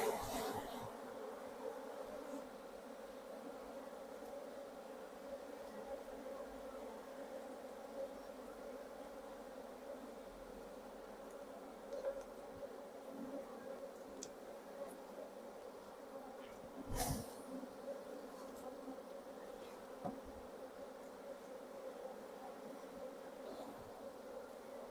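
Honeybees drone steadily around an open hive while its frames are handled. The hum is close and continuous, with a brief louder knock partway through.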